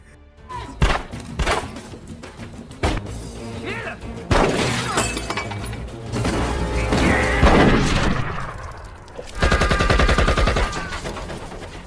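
Shotgun blasts from the 2009 action film The Tournament: loud booming shots with shattering glass and debris among them, ending in a dense burst of rapid fire, all layered with a film soundtrack.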